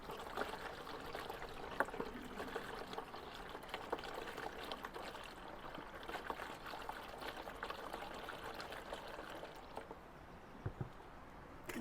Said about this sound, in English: we're going to put some cold water in first from the tank, and then adjust the temperature with the hot